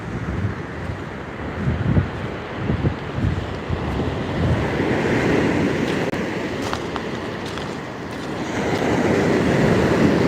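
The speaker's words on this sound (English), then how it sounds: "when you hear those waves clap like thunder, that's how you know it's coming to get you." Ocean waves crash and churn along a rocky agate-hunting shore, a loud, continuous roar with breaking surges, heavy wind buffeting the microphone and no one speaking.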